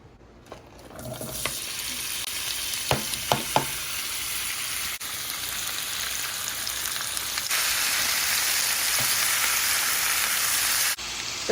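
Seasoned pre-cut food sizzles steadily in a hot pan on a stovetop, a dense, continuous frying hiss with a few sharp pops and clicks early on, growing slightly louder partway through, with no talking.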